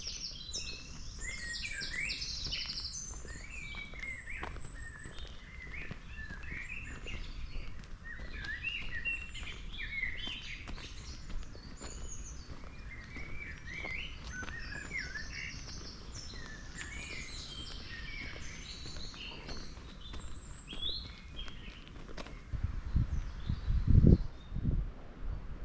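Birdsong in Thorpe Wood, with many birds chirping and warbling continuously at a moderate distance. A low rumble and a few rustling thumps come near the end, and nobody speaks.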